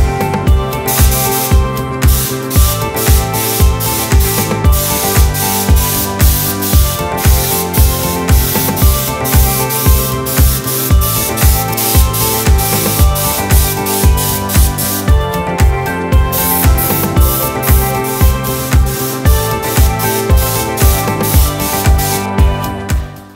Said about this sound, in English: I loaded a small gun with a small nozzle needle combination with white